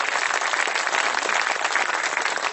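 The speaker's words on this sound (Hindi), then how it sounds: "एक बार इनके सम्मान में तालियां बजनी चाहिए" Audience applause at a Hindi poetry recital, a steady, dense wash of clapping from a large crowd that holds at an even, loud level throughout with no talk over it.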